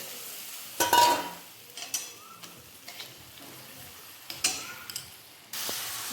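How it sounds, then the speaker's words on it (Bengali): Spice paste with tomato fries in a pan for a vegetarian chickpea dal, with faint sizzling under several stirring scrapes and clacks, one loud burst near the start and another at the end. "মশলা ভালোভাবে কষানো হয়ে গেছে"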